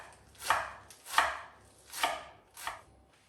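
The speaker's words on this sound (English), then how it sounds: "I want you to roll it up into a ball and then just run a knife through it" Knife chopping through rolled-up baby spinach on a board: four evenly spaced crisp cuts with soft leafy crunch, close and alone.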